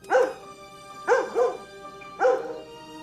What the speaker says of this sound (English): heads to the roof and starts barking